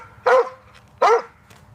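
A dog gives two sharp, clear barks about three-quarters of a second apart, close and loud against an otherwise quiet background.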